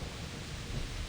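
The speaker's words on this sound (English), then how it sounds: "It be raining" Rain and thunder in the video game Kingdom Come, a steady dense wash of rainfall with low rumbling underneath, quiet and continuous without speech.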